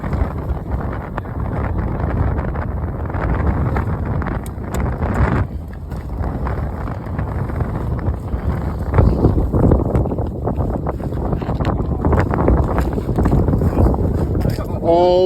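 High wind gusting across a frozen lake in the North Maine Woods during an ice-camping trip, a loud broadband rush buffeting the microphone continuously, with a brief lull before building again.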